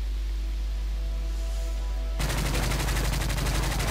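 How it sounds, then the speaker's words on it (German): A suppressed gun fires rapidly in a video game, starting halfway in as a dense, loud rattling burst after a quiet stretch of low hum. "Das Teil rattert rein, als hätte man Schnellfeuer."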